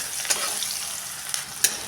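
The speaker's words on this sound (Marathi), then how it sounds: "कांदा पण आपण चांगला गुलाबी रंग येईपर्यंत परतून घ्यायचा आहे." Finely chopped medium onion fries in a pan for jowar flour upma, giving a soft continuous close sizzle broken by three light clinks of a spoon stirring, with no talking.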